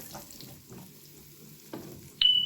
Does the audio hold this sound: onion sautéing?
yes